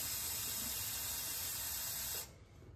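Hot tap water gushes steadily into an empty plastic ketchup bottle with a bright, hissing spray, loud and close, then cuts off abruptly near the end.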